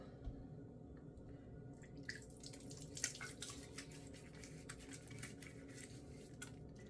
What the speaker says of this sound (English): I'm gonna put this blue water on my face